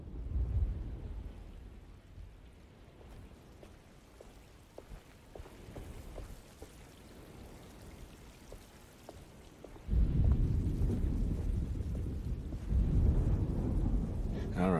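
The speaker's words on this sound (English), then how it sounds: "Just keeping an eye out for the storm." Thunderstorm in the Alone in the Dark video game: a soft, steady rain hiss with faint drips, then a deep rolling rumble of thunder swells near the end. Voices speak quietly beneath it.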